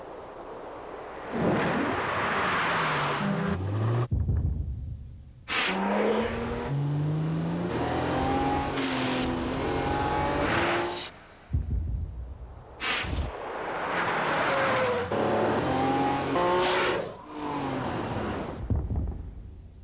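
A BMW X5 SUV drives in a TV commercial, its engine surging and fading in several loud, close bursts separated by brief pauses, with no talk.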